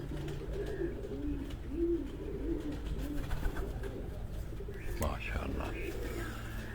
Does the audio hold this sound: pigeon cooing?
yes